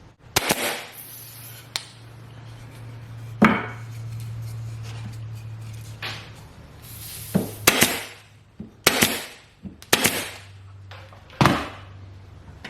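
A Metabo HPT 23 gauge pin nailer fires semi-automatically into 1x2 wood, each shot a sharp, close snap. The shots come singly and in quick pairs with short pauses between them, and a low hum runs underneath.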